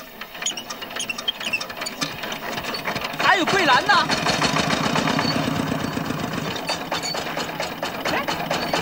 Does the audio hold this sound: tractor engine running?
yes